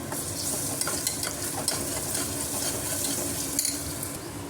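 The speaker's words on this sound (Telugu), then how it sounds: "అల్లం వెల్లుల్లి పేస్ట్ వేసుకుందాము. కలిపేసుకుందాము." Ginger garlic paste sizzles in a hot pan for a brinjal and drumstick curry while a spoon stirs it, giving a steady close frying hiss broken by scraping strokes, with no talk.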